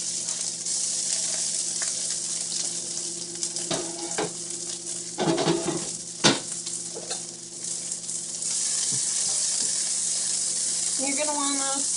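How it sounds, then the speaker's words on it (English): Broccoli and flank steak stir frying in a pan over medium-high heat, a steady loud sizzle running throughout with occasional clatters of stirring and utensil scrapes. "You're going to want to stir fry this on medium high"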